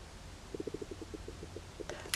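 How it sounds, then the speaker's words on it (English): A low, bubbly stomach growl gurgles in a quick series of soft pulses over a faint steady hum, close and fairly quiet. "did you hear that? That was my stomach growling."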